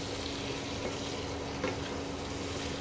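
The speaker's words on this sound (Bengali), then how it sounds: "কমিয়ে আস্তে আস্তে মশলাটার সঙ্গে চিকেনটাকে ফ্রাই করতে হবে" Chicken fries with spices in a pan over lowered heat, giving a steady, close sizzle and crackle with a faint low hum underneath and a brief stirring scrape partway through.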